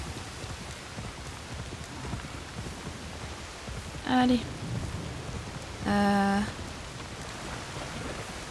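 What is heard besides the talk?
rain in video game Assassin's Creed Shadows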